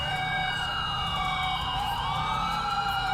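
A police siren in a video game wails, sweeping up and down continuously, loud and close, with a low engine rumble underneath, at a roadblock.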